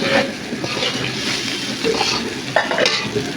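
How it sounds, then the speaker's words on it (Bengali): Garlic being stir-fried dry in a pan for a potato and plantain curry, loud close sizzling with repeated scraping and stirring strokes of a spatula against the pan, no voices. "আমি রসুনটাকে ভালো করে কষিয়ে নেব।"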